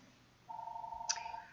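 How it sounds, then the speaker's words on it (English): A telephone rings indoors with a single brief electronic tone, fairly faint and clear against a quiet room with no talking. "Excuse the phone ringing."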